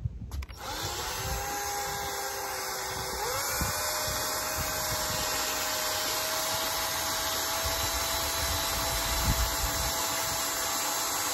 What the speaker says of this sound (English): The sandpaper's doing most of the work.